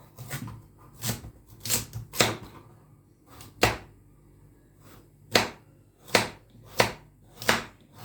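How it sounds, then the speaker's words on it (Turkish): Sharp knife chops strike a cutting board while chopping carrots, in uneven bursts, each a crisp close knock with short pauses between, about a dozen in all. "Havuçlarımı şöyle şöyle doğrayacağım."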